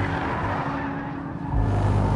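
A 2013 Nissan GT-R Black Edition, 550 horsepower with all-wheel drive, roars steadily at speed on a racetrack, a loud, close engine drone that deepens and swells near the end of the brief stretch.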